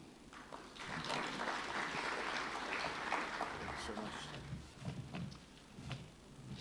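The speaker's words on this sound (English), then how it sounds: "Let's give him a big round of applause for that brilliant presentation." Audience at a competitiveness summit applauding after a presentation, a sustained wash of clapping from a crowd that swells and then tapers, with a voice speaking over it toward the end.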